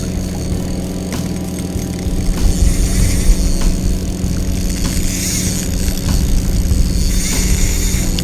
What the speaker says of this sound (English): I did not expect the boat traffic to pick up this time of day, especially not with jet skis